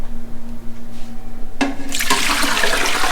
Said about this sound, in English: And then I'm going to add 5 quarts of water.